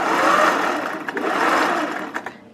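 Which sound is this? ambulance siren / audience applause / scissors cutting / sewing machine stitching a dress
sewing machine stitching a dress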